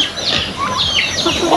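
Chickens cluck and chatter nearby in short, overlapping calls, with a voice speaking faintly in the background.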